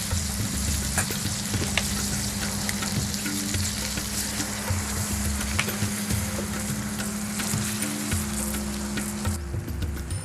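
Tomatoes and minced pork fry in a pan for northern Thai nam prik ong, a steady close sizzle running throughout with occasional stirring scrapes and clicks.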